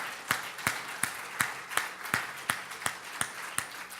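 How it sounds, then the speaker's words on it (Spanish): Rhythmic handclapping in a church congregation at a Spanish-language service, with about a dozen sharp, evenly spaced claps over steady room noise, like one or a few people clapping a beat rather than a full ovation. "Dale un aplauso fuerte a Él."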